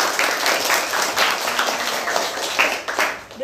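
Students at an elementary school in Asahan clap together in a classroom, a dense, steady burst of applause that lasts a few seconds, loud and close.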